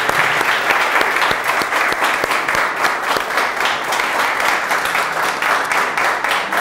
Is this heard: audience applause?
yes